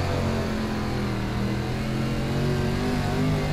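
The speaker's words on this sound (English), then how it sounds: "You can really hear the difference in the engine RPMs more than anything." A dirt late model race car engine in the iRacing sim drones and revs continuously, pitch shifting slightly as RPMs rise and fall, with no talk over it.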